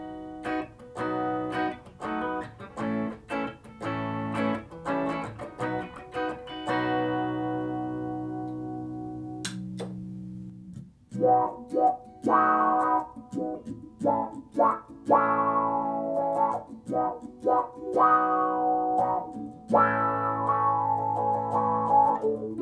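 A Gibson Les Paul with a hint of reverb, played through a Mu-Tron Micro-Tron III envelope filter pedal. A run of strummed chords gives way to a held note, then a series of picked single notes with a vowel-like filtered quack.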